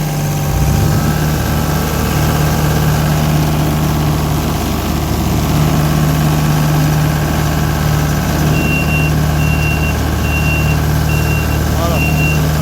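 A model 120 compactor with a fault runs close by with a loud, steady engine drone and a constant vibrating hum, while a series of faint electronic beeps sounds near the end.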